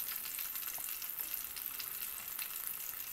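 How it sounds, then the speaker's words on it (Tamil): Mushroom pieces fry in a pan as they are flipped, giving a faint, steady hiss of sizzling oil that runs without pause. "ஒரு பக்கம் ஃப்ரை ஆகிடுச்சு, இன்னொரு பக்கம் திருப்பி வேக விடலாம்."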